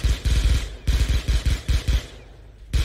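Rapid bursts of automatic gunfire from a zombie video game, several loud close volleys with short gaps between them and no talk.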